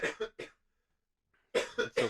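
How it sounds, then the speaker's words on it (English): Harsh coughing close into a microphone comes in two bursts of three sharp coughs each, separated by near silence, loud and dry. "you are coughing so loud into the mic"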